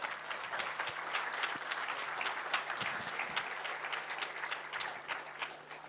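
Audience clapping at a closing ceremony, a steady sustained round of many hands heard from within the hall, even in loudness throughout.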